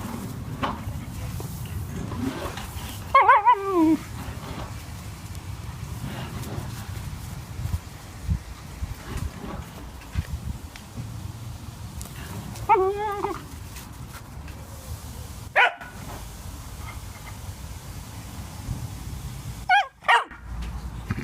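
Amber the dog, a dog with cancer, whimpers and lets out a few short yelps and barks while being sprayed with a hose, the water's steady low rush running underneath with brief human talk.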